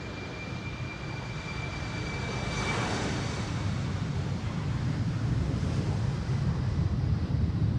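An Aer Lingus jet departing Amsterdam Schiphol on a windy day gives a continuous engine roar that swells slightly midway, mixed with wind buffeting on the microphone.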